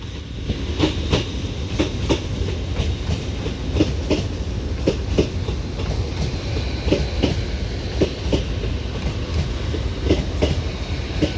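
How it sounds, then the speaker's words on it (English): An Avanti West Coast double-set class 805 train departs Chester on a service to London Euston, giving a steady, close rumble with regular clickety-clack wheel beats on the rail joints throughout. "This Avanti West Coast double class 805 is off now with the 1532 Avanti West Coast service to London Euston"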